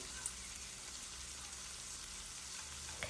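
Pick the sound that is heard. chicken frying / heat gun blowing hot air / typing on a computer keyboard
chicken frying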